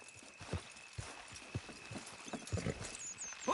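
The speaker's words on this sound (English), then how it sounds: "Horses will pull it clean down" Several horses clip-clopping and straining as they pull in Red Dead Redemption 2, hooves thudding in an uneven rhythm with a steady tone and faint whinnies behind, no talk.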